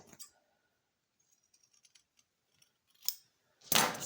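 Scissors snip off the corners of a lap quilt in a few brief, crisp cuts, with a faint rustle of fabric and small handling clicks between them.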